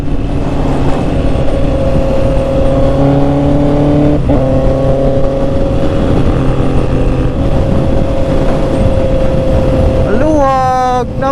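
Honda CB650R motorcycle engine while riding on an open road, a loud continuous engine drone with rising pitch as it revs near the end, heard up close.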